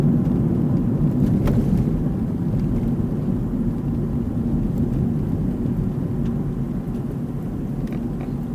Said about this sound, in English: Crikey, yep, there's another car.